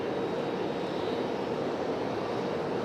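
An Alaska Airlines airliner at Raleigh-Durham airport gives off a steady broadband jet roar, distant but constant, with no voices over it.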